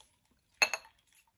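A glass of water is shifted across a table during drawing, giving a brief, close double clink of glass on the surface in an otherwise quiet room.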